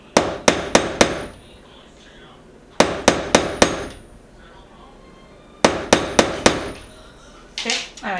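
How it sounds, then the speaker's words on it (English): A nail is driven into a wooden table top with a hammer: three bursts of four or five sharp, close knocks each, separated by pauses, followed by a faint shuffle at the end. "you drive that nail all the way in"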